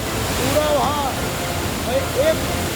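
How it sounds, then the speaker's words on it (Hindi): Heavy floodwater after torrential monsoon rain gushes down the steps of a hillside ashram in a loud, continuous rushing roar, with faint voices briefly audible beneath the noise. "मूसलाधार बारिश की वजह से परमहंस आश्रम धारकुंडी में पानी की धार फूट पड़ी।"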